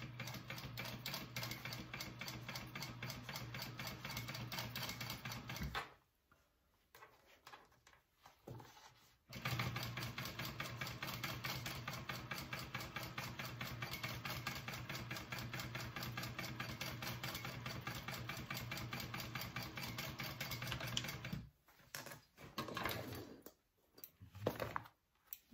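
A sewing machine top-stitches down each side of a shoulder bag seam in a fast, even run of needle ticks. It stops briefly partway through, runs long again, then ends in short bursts.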